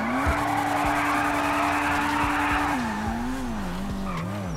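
Rear-wheel-drive sports car in GTA 5 with a loud, aggressive engine, its tone held steady then wavering while the tires squeal and skid continuously throughout.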